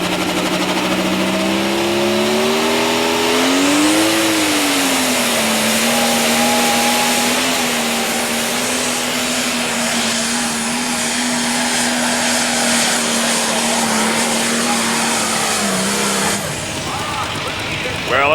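Pro stock pulling tractor at a 1998 NTPA pull in Bowling Green, Ohio, its engine roaring loud and continuous, pitch climbing briefly then holding a sustained strained drone before cutting back near the end, with an announcer talking over it.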